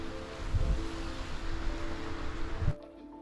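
Ocean waves washing onto the shore in Nova Scotia, a steady broadband rush with a couple of soft surges, heard alone before cutting off abruptly near the end.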